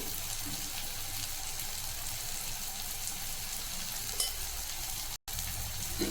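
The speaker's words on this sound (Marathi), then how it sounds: "याला पण छान असं परतून घ्यायचं आहे दोन ते तीन मिनिट अगदी तेलामध्येच" Ridge gourd with turmeric, salt and crushed peanuts sautés in oil, a quiet continuous hiss of frying with faint stirring, briefly cut by a short gap of silence; no speech.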